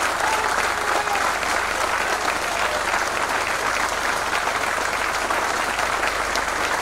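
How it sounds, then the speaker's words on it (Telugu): Steady, dense applause from a large audience at a Telugu spiritual discourse, loud and continuous for the whole stretch with no pause. "గట్టిగా మీ అందరి కరతాళ ధ్వనులతో చాలా గట్టిగా ఒక్క నిమిషం గట్టిగా"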